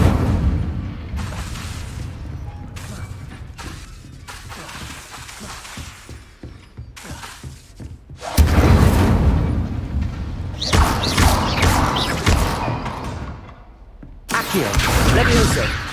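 Incendio fire spells cast in a Hogwarts video game, heard as repeated loud bursts of roaring flame and crackling impacts, some stretches going on for seconds, with a voice talking in between.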